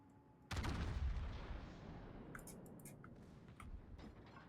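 Heavy naval gunfire from a battleship in World of Warships, a loud booming salvo with a long rumbling decay and later distant shell impacts, no talk.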